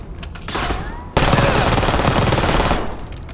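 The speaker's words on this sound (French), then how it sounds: "Elle est bien la petite mitraillette là. Le compact 92." Compact 92 submachine gun firing in the Call of Duty Black Ops 6 campaign, a loud sustained automatic burst that breaks in sharply after a short rising lead-in and rattles steadily for about two seconds before tailing off.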